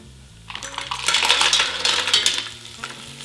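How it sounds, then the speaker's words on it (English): Mussels clattering into a hot pan with garlic and shallots, a quick burst of hard shell clacks and rattles over a sizzle, close and bright, fading as they settle. "We're gonna toss in the mussels."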